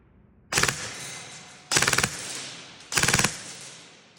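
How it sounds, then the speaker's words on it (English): Three short full-auto bursts rip out from a Lancer Gen-4 airsoft gun shooting at 400 FPS, each a rapid, close, loud string of shots separated by brief pauses, with no talking. "Full auto ripper."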